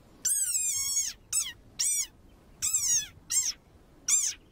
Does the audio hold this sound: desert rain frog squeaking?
yes